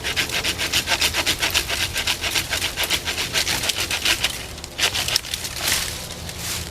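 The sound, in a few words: portable hand saw cutting tree branches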